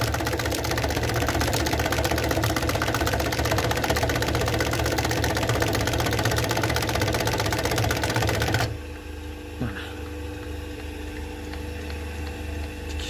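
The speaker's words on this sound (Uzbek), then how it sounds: "Mashinaning ovozi ham past." A sewing machine for sale runs steadily with a dense, even whirring hum for most of the span, then stops abruptly, leaving a quieter background with a faint click.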